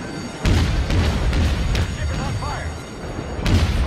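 Naval gunfire striking a warship in World of Warships, heard as repeated heavy booms and thuds in loud bursts over continuous battle noise, with a player talking throughout.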